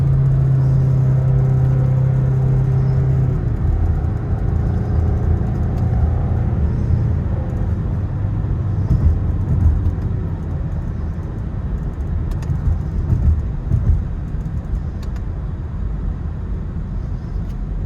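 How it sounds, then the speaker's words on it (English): A Ford Mustang EcoBoost engine rises and drops through paddle-shifted upshifts, a continuous close, loud rumble with a steady drone that breaks off early, then shifts to a rougher, varying engine tone. "let's take a look at some of the upshifting examples using the paddle shifters on your Mustang"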